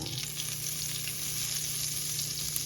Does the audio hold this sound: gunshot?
no